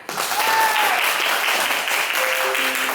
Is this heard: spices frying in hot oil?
no